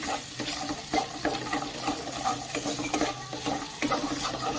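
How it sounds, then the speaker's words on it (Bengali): A spoon stirs cumin and coriander powder through a wet vegetarian banana flower curry, producing rhythmic, close scraping and squelching strokes with a soft sizzle underneath and no talking. "আবার মিশিয়ে নেব।"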